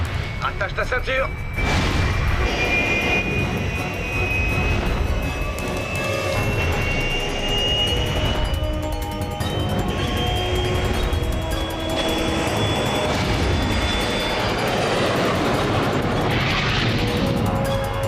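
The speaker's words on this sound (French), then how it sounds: "C'est mon avion!" Airplane jet engines roar in an action film, a loud steady rumble with a slowly rising whine. Dramatic effects and background noise are mixed in.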